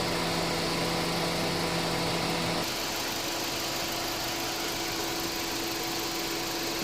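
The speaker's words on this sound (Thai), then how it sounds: "ปิดฝากระโปรงเร่งเครื่อง" A Honda City car engine runs steadily with the hood closed, its tone shifting and rising partway through as it is revved, heard close with a muffled, constant hum.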